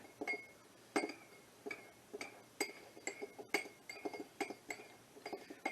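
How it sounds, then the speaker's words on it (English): An egg and milk are stirred in a glass. A utensil taps and clinks against the glass in a quick, steady rhythm, close and fairly quiet. "there is 1 egg in there and about a tablespoon of milk. I'm just going to stir them up."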